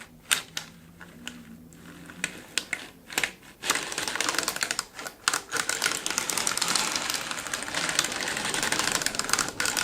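A 3D-printed circular sock knitting machine (CSM MK2) running rows of yarn, heard up close: sparse clicking at first, then a steady, dense rattle of needles clacking in rapid rhythm like a typewriter, with no talking.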